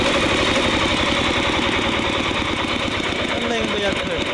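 An engine revs hard but struggles to pick up speed, as if fuel cannot feed in fast enough. It makes a loud, dense, continuous roar with a rough, pulsing chatter throughout.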